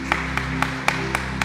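A church congregation at a live service claps steadily in rhythm, with evenly spaced claps over a sustained musical drone.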